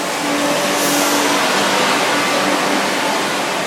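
A bus passes close by, producing a loud, steady roar and rush of engine and road noise that holds for a few seconds before easing slightly, with no voices.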